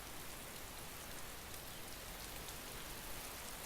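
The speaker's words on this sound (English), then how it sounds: "Oh, it's raining." Steady rain falls in the survival game DayZ, a constant dense hiss of drops on surfaces that stays even and close throughout, with no voices.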